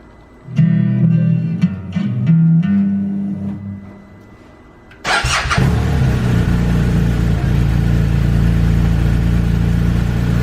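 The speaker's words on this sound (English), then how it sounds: "First thing, we need to turn on the bike." A motorcycle fitted with a Ride Vision rider-safety system is switched on. Faint electronic tones come first, then the engine catches abruptly and runs with a loud, steady drone close by.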